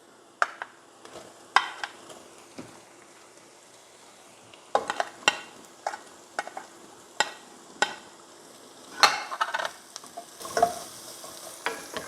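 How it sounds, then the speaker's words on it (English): Onions sauté in a pan with intermittent scraping and clattering stirs breaking through a low, quiet sizzle, for Philippine arroz caldo rice porridge. "Next, we're going to add in our onions"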